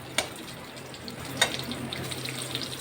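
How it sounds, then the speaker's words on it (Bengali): Pieces of pointed gourd (patol) fry lightly in a pan with a soft, steady sizzle, punctuated by two sharp clicks of a utensil; quiet and close, no voices. "আমি এই সাইডগুলো একটু ভেজে নিচ্ছি হালকা করে।"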